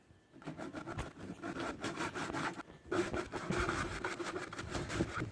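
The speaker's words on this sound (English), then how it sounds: "I was just cutting this bit of wood straight down the middle" Steady back-and-forth strokes of a hand saw cutting through wood, a rhythmic rasp with a brief pause midway, close up.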